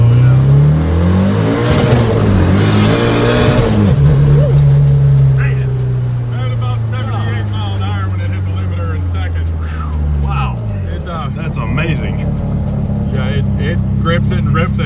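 A 1955 VW Beetle hot rod pulls hard through its gears, the air-cooled engine note climbing and dropping with each shift at close range, with someone talking over the steady engine drone.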